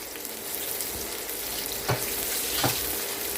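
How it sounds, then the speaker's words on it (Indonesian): Shallots and garlic sizzle steadily in a hot pan, a continuous crackling fry with a couple of brief louder bursts as the pieces are stirred. "Kemudian saya akan masukkan bawang merahnya ya teman-teman."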